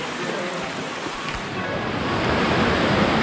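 Waterfalls beside a mountain trail in the Mała Fatra range, heard as a loud, steady broadband roar of rushing water that fills the scene and swells slightly toward the end.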